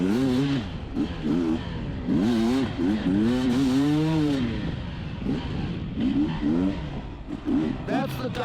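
A 2021 Beta 300 RR dirt bike engine revs and drops repeatedly while riding, its two-stroke pitch rising and falling in close, loud bursts with wind noise.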